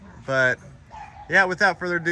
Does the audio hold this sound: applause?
no